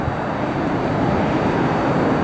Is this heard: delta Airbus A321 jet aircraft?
yes